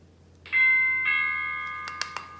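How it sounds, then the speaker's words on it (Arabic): A doorbell chimes two clear tones in a quiet room, the second ringing out and fading, followed by a couple of faint clicks. "رن الجرس، هذا سوبر ماركت طالب اغراض الان"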